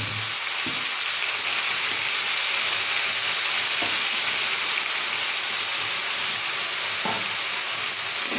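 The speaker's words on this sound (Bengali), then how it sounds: "শাকটা এইভাবে ভেজে নিলাম" Gima leafy greens frying in a little hot oil, a loud, dense hiss of sizzling that fills the whole stretch, with a few faint stirring taps underneath.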